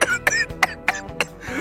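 A cartoon character, General Parvo, has a short fit of coughing and throat clearing, with four or five raspy, close bursts in quick succession against a faint background hum.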